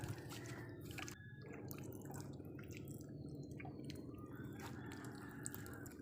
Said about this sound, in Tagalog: So ayan guys, tapos na po ako maghugas ng paa.